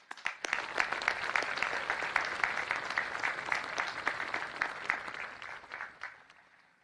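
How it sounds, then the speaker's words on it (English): A crowd at a high school commencement ceremony applauds for the graduates, a sustained, even round of clapping that builds quickly, holds for several seconds and tapers off at the end. "One more round of applause for our graduates."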